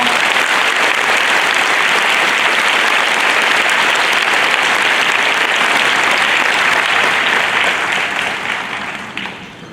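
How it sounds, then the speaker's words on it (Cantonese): Sustained crowd applause for parent volunteers at a Watsons athletics club gathering on Mother's Day, a dense, steady wash of clapping that holds loud throughout and tapers off in the final second. "希望俾啲掌聲"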